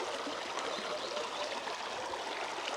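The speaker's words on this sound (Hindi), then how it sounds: "साफ़ पानी है, लेकिन ये पानी बहुत ठंडा होगा।" Clear, very cold stream water flowing steadily outdoors on a breezy morning walk, a continuous broad rushing and trickling that stays even and fairly close throughout.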